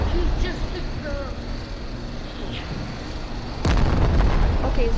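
A bomb detonates in the video game Animal Company with a sudden loud boom that cuts through a noisy background of game sounds and settles into a continuing rumble.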